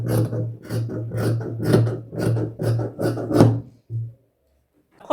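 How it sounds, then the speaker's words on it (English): Fabric is cut at the shoulder of a shirt dress with a close, rhythmic series of rasping scissor strokes, about a dozen in steady succession, then a last snip after a pause. "After bringing it down, then I am going to be cutting the shoulder now."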